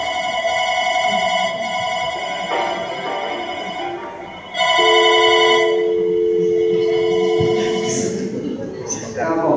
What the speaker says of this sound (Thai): วิธีการปรับว่าให้เสียงเรียกเข้านั้นดังหรือไม่ดังก็คือกดเครื่องหมายลบบวกตรงนี้เลยครับ